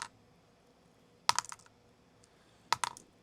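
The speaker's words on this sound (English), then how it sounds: "I have a top, and so I could just drop it and make some clicking sounds." A spinning top dropped onto a surface, producing two separate bursts of sharp rapid clicks and rattles, close and fairly loud against quiet surroundings.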